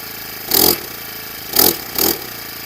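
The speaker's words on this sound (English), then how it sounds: "It's an Atom Deluxe Lawn Edger made by Honda." Honda Atom Deluxe lawn edger, a small engine with a blade out front, idling steadily with three short revving bursts rising and falling, fairly close.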